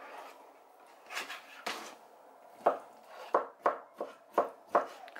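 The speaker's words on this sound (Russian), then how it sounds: "Теперь нарежу свеклу. Тоже на кубик." A knife chops beetroot into cubes on a board for a vinaigrette salad, first a few soft scattered cuts, then a steady run of six or seven crisp, close chops with no talking.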